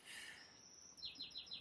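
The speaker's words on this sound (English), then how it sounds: "It's quite nice to have some birds singing outside, right?" Birds chirping outdoors, heard faintly and at a distance through a window during a quiet hobby workshop session, with a repeated series of short high chirps toward the end.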